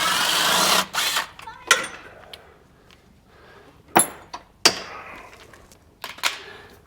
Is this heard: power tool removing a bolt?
yes